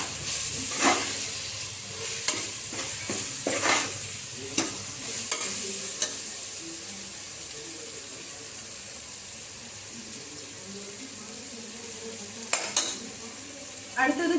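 Chilli and coriander masala for chicken biryani fries in a pan while being stirred, giving a soft steady sizzle broken by scattered scraping and clinking strokes, with no talk.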